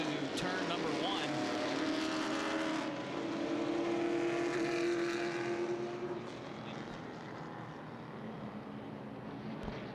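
Late model sportsman race cars roar as a steady, distant engine drone while the field runs double file into turn one at Lucas Oil Raceway Indianapolis, with a commentator talking over it.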